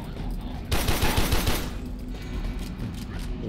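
Automatic weapon fire from the Warframe video game, a dense burst of rapid shots loud for about a second, then continuing combat noise and rumble behind it.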